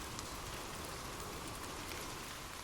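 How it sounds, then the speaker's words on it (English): Steady ambient rain falls in a dense, even wash of patter with no pauses, soft and continuous throughout with no voices. "drift off to sleep with rain"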